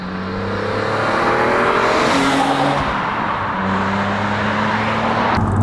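Six-cylinder car engine under way, revving up through rising tones, dropping on a gearshift, then pulling again, loud and close with road noise behind and no voices.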